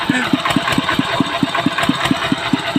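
An old Thai farm truck with an oil-seeping engine runs at a steady idle nearby, its regular thudding beats pulsing about five times a second over a noisy background.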